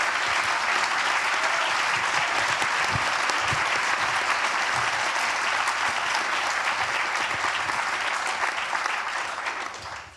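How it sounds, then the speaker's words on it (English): Dense, sustained audience applause fills a room at an evening peace address in Geneva, steady and loud throughout before tapering off at the very end. "yes, please, round of applause"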